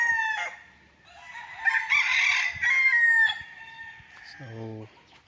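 A rooster crows loudly in a chicken coop on a farm lot, long drawn-out calls close by, with hens clucking around it and a short low voice-like sound near the end.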